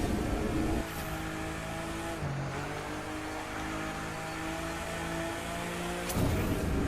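A 2017 BMW M2 driving in The Crew 2, its engine holding a sustained tonal hum that dips and shifts pitch through a few gear changes, with a brief louder surge near the end and no talking.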